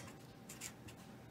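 Pen scratching words onto paper while making a cootie catcher, a faint, close, soft scratching with a few brief louder strokes and no talking.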